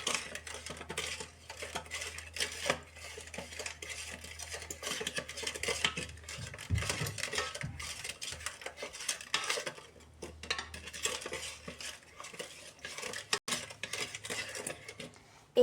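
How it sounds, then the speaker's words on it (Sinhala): A spoon stirs sugar in a heating pot in a rice cooker, scraping and clinking steadily against the sides in a continuous close rhythm. "ඒකල මේක රත් වෙනකන් සීනි ටික කලවම් කර කර ඉන්න තමයි තියෙන්නේ"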